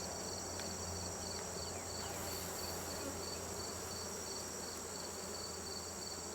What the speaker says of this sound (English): This is where most of the bees are at.